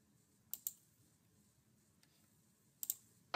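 Mouse clicks on a computer, faint and close in a quiet room, two quick pairs of crisp clicks a couple of seconds apart with one more at the end.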